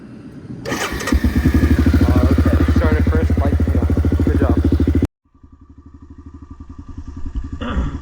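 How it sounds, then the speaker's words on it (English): A four-wheeler quad that has not been running right cranks and fires into a loud, throbbing idle up close. The engine abruptly cuts out, then sputters back and rises again. "Let's see if my four-wheeler starts up."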